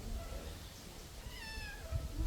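Small kitten meowing a few times at a market stall, thin rising cries standing out over steady background noise and low rumble, with a faint bit of talk nearby.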